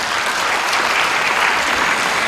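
Sustained audience applause fills a ceremony hall at a folk bard's 65th birthday celebration, a dense, loud, even wash of many hands clapping without a break.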